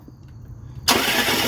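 A Dodge Ram 1500 Hemi V8 is cranked with its starter but does not fire, and a loud, sudden whirring roar cuts in abruptly after near silence and continues steadily up close.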